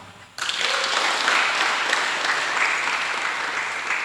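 Congregation applause at a church worship service on the Holy Spirit, bursting in suddenly after a brief quiet moment, then sustained, dense clapping that stays steady and fairly loud throughout.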